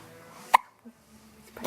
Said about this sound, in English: And we got the hiccups.